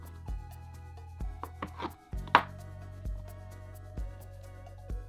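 A knife cuts through rolled rainbow baumkuchen tree ring cake, with several soft thuds against a board at uneven intervals, close and clear over quiet background music.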